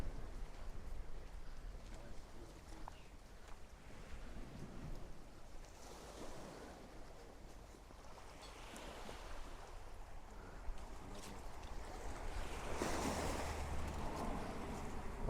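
Sea waves wash ashore at a beach in Hopewell, Jamaica, a steady broadband surf wash with wind noise on the microphone, swelling louder toward the end, with no talk.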